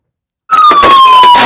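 Police car sirens start abruptly after a short silence and wail loudly and continuously, close up, with a steady pitched tone and strong pulsing noise.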